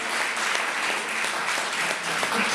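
An audience at an Italian book presentation and conference applauds in a dense, steady burst of many clapping hands.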